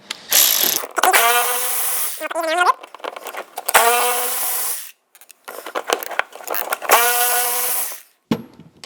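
A driver bit backs T20 Torx screws out of a Milwaukee impact driver during teardown, giving loud close bursts of whirring, ratcheting spin separated by short pauses.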